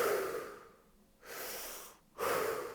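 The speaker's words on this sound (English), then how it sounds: "You hyperventilate, but you do it in a continuous way." Deep, slow hyperventilation breathing done in a steady continuous rhythm, with long audible inhales and exhales following one another closely, near and fairly loud with no talking.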